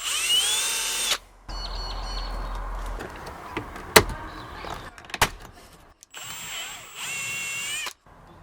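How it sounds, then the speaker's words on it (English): A power drill whirs in short bursts with pauses and clunks between them while drilling a 10mm hole to install a brake controller, fairly close, with no one talking. "you've got to drill a 10mm hole"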